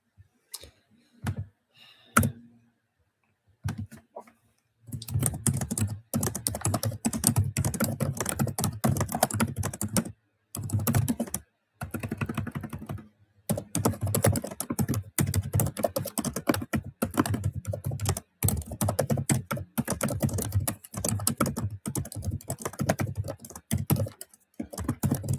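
Someone types steadily on a computer keyboard for a book draft, fast close clicking in long runs, broken by a few brief pauses and scattered single key taps at the start.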